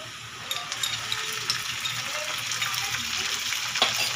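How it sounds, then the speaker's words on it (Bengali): Browned onion frying in oil with ginger-garlic paste for a Bengali fish kalia, a steady close sizzle and hiss with occasional light scrapes of stirring. "আদা রসুনটা দেওয়ার পর এটা আমি আরও একটু ভাজা ভাজি করে নেব।"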